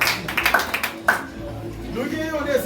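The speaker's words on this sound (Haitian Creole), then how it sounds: "Applaudissez tout le monde." Audience applause in a gathering, a burst of scattered hand claps over a few seconds that fades, with talk over and after it.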